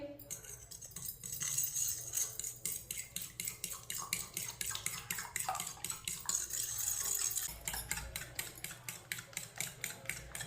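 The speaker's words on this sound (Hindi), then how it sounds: "अंडों को मैंने मिक्स कर लिया" Eggs being beaten in a bowl with a fork or spoon, giving a steady, rapid clinking rhythm against the bowl that continues for several seconds at close range.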